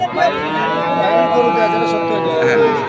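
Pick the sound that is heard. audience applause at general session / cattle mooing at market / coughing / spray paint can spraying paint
cattle mooing at market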